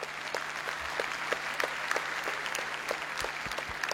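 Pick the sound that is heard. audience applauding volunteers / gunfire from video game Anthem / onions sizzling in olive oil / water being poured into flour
audience applauding volunteers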